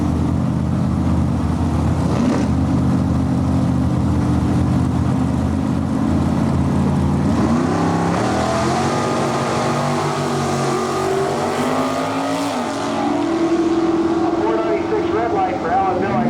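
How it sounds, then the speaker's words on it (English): Small-block Chevrolet Firebird and Camaro drag cars idle and rumble at the line before revving hard and launching, engines rising in pitch as they pull away at an NHRA divisional drag strip, with an announcer talking over them. "Couple of small block Chevrolet power cars."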